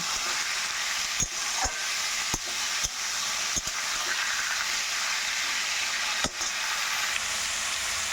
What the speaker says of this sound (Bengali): এর মধ্যে দিয়ে দেবো কুমড়োগুলো। ভালো করে একটু নাড়াচাড়া দিয়ে নেব।